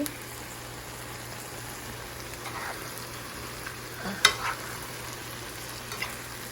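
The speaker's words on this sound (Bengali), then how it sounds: "আগে থেকে কেটে রাখা সবগুলো শুটকি একটু বেশি করেই রান্না করছি" Dried loitta fish fries in a pan with a soft, even sizzle, broken by a few quiet clicks and scrapes of stirring.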